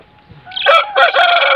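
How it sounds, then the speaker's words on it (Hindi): An Aseel rooster crows up close, a loud broken call that starts with a short burst and stretches into a long sustained note. "तो ये है हमारा असील मुर्गा।"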